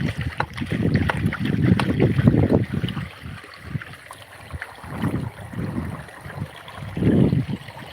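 Water gushes and splashes from an overflowing borewell in uneven surges, loud bursts rising and falling close by, with a rumbling low-end churn between them.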